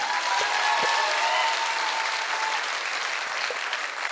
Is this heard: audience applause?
yes